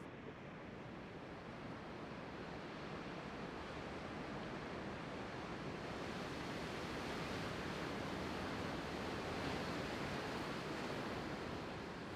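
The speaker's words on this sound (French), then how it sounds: "seul le bruit des vagues et du vent venait rythmer ce silence" Ocean waves and wind on a rocky coast at night under a full moon, near the Portuguese border, forming a steady, dense wash of surf and gusting air that swells slightly in the second half, with no voices.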